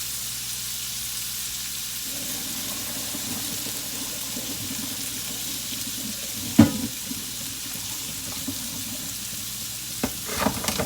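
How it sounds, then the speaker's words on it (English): Pasta drained in a kitchen sink: a steady wash of pouring water and hiss, with a sharp clunk partway through and a few light knocks of the pot near the end. "I'm just gonna go drain my pasta and I'll be right back."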